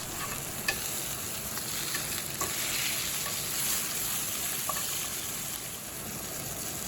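Steak coated in a mac and cheese powder rub fries in hot oil in a cast iron pan, giving a steady, close sizzle with scattered small crackles and pops.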